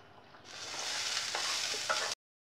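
Vermicelli simmers in milk for payasam, giving a steady, close bubbling hiss with faint stirring. It starts abruptly, holds for about two seconds and then cuts off, with no talking.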